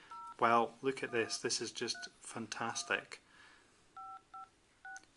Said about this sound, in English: So you can dial in your phone number